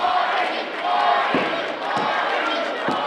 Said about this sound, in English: The crowd chanting for Marti, Marti, Marti